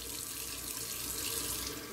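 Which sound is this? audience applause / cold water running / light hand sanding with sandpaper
cold water running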